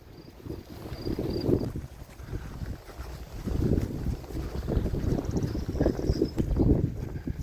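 Strong outdoor wind buffets the microphone in gusty, rumbling surges that rise and fall, loud and close, with no voices.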